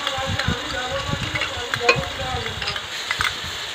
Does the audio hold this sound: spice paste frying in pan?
yes